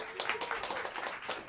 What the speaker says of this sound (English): Let's put a round of applause for him.